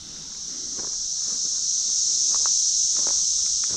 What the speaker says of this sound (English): those are called cicadas